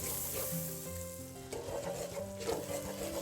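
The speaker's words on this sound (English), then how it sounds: "But the brown flour goes in and we make like a quick roux." Brown flour cooks in lard with onions into a quick roux over an open 18th-century-style fire, a close, even sizzle with stirring, accompanied by sustained tonal notes that sound like music.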